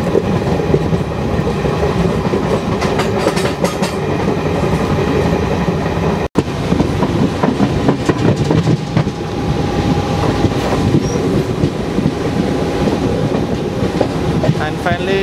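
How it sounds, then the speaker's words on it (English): An Indian Railways passenger train pulls into Cuttack railway station with loud, continuous rumbling and clickety-clack wheel noise on the track, heard from aboard the carriage. A brief dropout comes midway, and there is no clear speech. "And finally we are entering Cuttack railway station."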